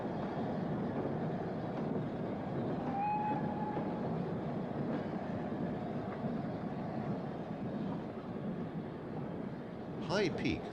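A 7mm O gauge model train pulling private owners' coal wagons rolls along the layout with a soft, continuous rumble and clatter, fairly faint, ending in a brief metallic squeal.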